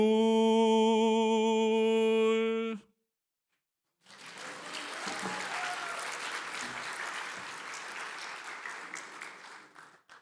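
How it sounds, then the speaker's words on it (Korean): A church congregation applauds during a Sunday worship service, a steady wash of many hands clapping that holds for several seconds. It follows a sustained musical tone and a brief silence. "1부 때도 박수를 쳐주셔서."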